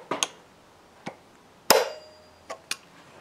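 Sharp metallic clicks as a retaining clip is snapped onto a Stihl chainsaw sprocket drum with pliers: a few light taps, then one louder ringing snap with a brief tonal ping, followed by two more small clinks, close and isolated.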